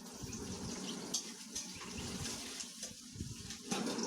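Sliced onions sizzle in hot mustard oil in a wok over a stove, a soft steady hiss with faint crackles, fairly quiet and without voices.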